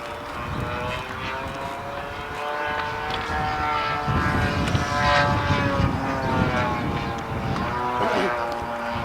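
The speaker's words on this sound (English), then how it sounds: "Now the airplane's bouncing all around in there." A propeller airplane drones overhead in flight, a steady loud engine hum with shifting pitch and rumbling low end that swells slightly as it passes, with no speech.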